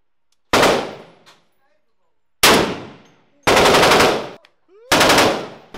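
A Thompson submachine gun fires at a Las Vegas shooting range in four loud, close bursts of rapid shots, each ringing out briefly before a short silence.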